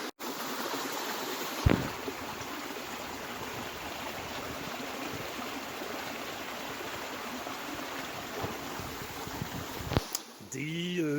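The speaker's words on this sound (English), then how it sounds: "that's the bubbling little waterfall that made the soothing sound last night" A small bubbling waterfall fed by clear mountain spring water at a campsite flows steadily as a close, continuous rushing wash, broken by a couple of brief knocks near the start and end.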